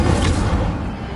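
A short, full-bodied magical fire burst from the Incendio spell in the video game Hogwarts Legacy: a loud, dense whoosh with a booming low end that fades slightly over about a second.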